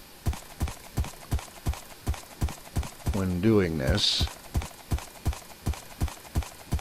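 A horse's hooves clip-clop in a steady, evenly spaced rhythm while riding through a long Minecraft tunnel, loud and close, with someone talking briefly over the hoofbeats.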